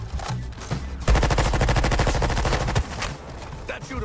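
Rapid automatic gunfire in the Suicide Squad video game, a dense burst of fast shots lasting about two seconds, loud and close, with scattered softer shots before and after.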